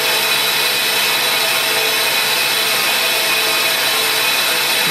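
A countersink shank is ground against a power grinder, giving a loud, steady, high whine with a dense hiss of abrasion that holds unchanged and close for the whole stretch.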